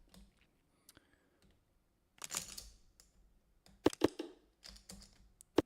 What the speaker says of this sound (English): Hopefully me shuffling chips in the background isn't too loud